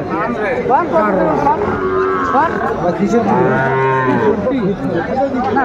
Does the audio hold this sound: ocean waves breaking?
no